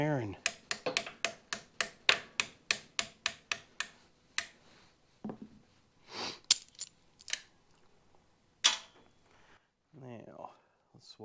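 Vice grips beating a cotter pin out of the steering gear on a 1994-2000 EZGO TXT golf cart: a rapid run of sharp metallic taps, then scattered louder knocks with pauses, close and unaccompanied by talk.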